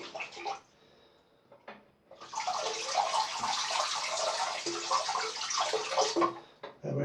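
A vintage World War II Gillette safety razor rinsed under a running tap, with a steady hiss of water that starts after a short pause and continues for several seconds, close by, with brief splashes and clinks.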